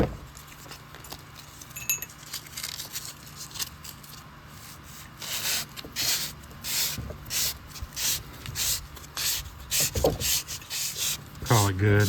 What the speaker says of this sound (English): I'm going to move up to 600 grain and or 600 grit and work on it a little bit more.